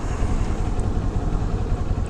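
A Kawasaki Z400 naked upright beginner motorcycle engine runs with a steady, low rumbling drone heard up close for a couple of seconds, without any talk.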